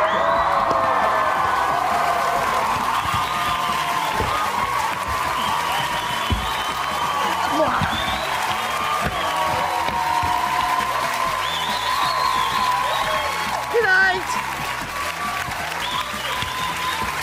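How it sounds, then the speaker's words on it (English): A large crowd cheers and applauds steadily for someone dancing, with scattered whoops and shouts over a continuous, loud roar of clapping that holds for the whole stretch. "They're all cheering because they love you dancing."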